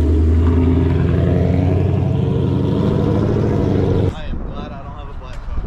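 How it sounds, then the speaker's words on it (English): A supercharged 5.0 Jaguar burbles loudly through its active exhaust, a deep steady rumble that drops off abruptly near the end, with voices talking over it. "The active exhaust on these cars is by far one of my favorite features."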